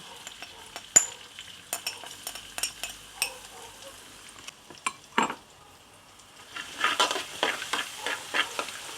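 Garlic sizzles quietly in a pan while a utensil scrapes and clinks against it, soft scattered stirring taps over a faint frying hiss that grows busier near the end.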